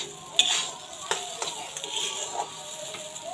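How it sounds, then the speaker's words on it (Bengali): Rice being fried in ghee in a pan, with soft, faint sizzling and occasional scraping stir clicks scattered through a quiet background. "একদম মুচমুচে করে ভাজতে হবে চালটা।"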